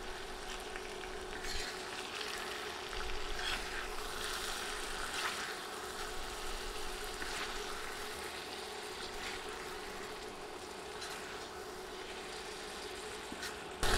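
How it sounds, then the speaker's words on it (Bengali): Chicken pieces are stirred with butter on a hot tawa, producing a steady, even sizzle with faint scraping of the spatula, close and continuous throughout. "বাটার দিয়ে নেড়ে মিশিয়ে দিচ্ছি।"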